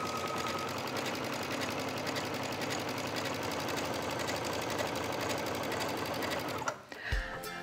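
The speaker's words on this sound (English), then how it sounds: "I just sew right along the edge of my fabric." A sewing machine runs steadily as it overcasts a stitch along a raw fabric edge, a fast, even mechanical chatter held for several seconds before it stops with a brief thump.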